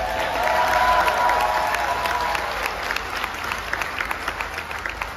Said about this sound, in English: that's a bigger applause than I got